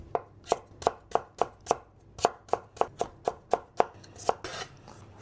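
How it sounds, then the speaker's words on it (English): A knife cuts chicken into thin slices on a board: about fifteen crisp, evenly spaced chops at close range, pausing once briefly and then speeding slightly near the end, with no talk. "And then lay it down and slice into thin pieces."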